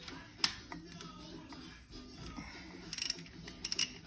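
A ratchet wrench works spark plugs out of a Ford 351C 4V race engine, giving faint clicking ratchet strokes and small metallic taps over a low steady background hum.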